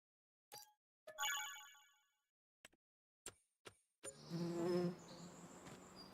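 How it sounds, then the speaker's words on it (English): Buzzing insect, likely a bee, droning for a few seconds in Farming Simulator 25 amid short clicks and tones from the game, followed by a busier, noisier stretch of game sound; no voices. "Oops, I just heard a bee."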